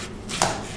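A single crisp knife chop through zucchini on a board, cutting it into chunky pieces, one short close thud and snap.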